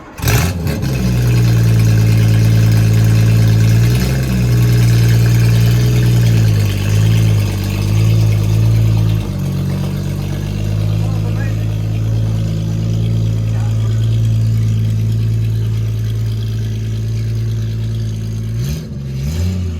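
A 1960s Triumph Vitesse engine fitted in a kit car runs steadily at a loud, close idle with a few light revs, a low throbbing drone that holds nearly twenty seconds before cutting off at the end.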